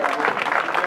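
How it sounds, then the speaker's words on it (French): Audience at a pirate-themed festival clapping for contestants, a steady dense patter of many hands filling the space, fairly loud and unbroken. "On les applaudit bien fort"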